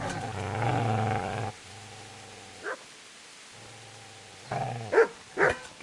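A dog in the Kingdom Come video game growls low and continuously, then breaks into a few sharp, close barks and yips between quieter rumbling stretches.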